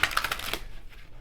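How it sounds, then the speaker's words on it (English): Mermaid Tarot cards being shuffled up close: a quick run of soft riffling flutters for about half a second, then fading into quiet room tone. "Let's do some shuffling and pull from the Mermaid Tarot"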